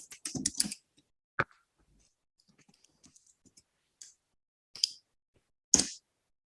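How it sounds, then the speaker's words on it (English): Sparse computer keyboard typing: a few short bursts of quiet key clicks separated by long silent pauses, heard close and alone. "I'm typing it into the chat now."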